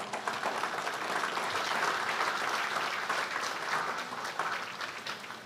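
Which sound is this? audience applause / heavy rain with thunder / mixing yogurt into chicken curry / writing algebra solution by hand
audience applause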